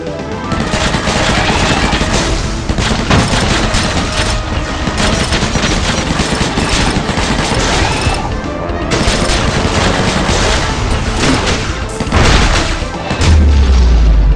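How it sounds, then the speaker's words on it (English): A heavy machine gun fires continuously in the mobile shooter game Undead Squad, producing a loud, dense stream of rapid booming shots with a deep thud near the end. "Heavy machine gun."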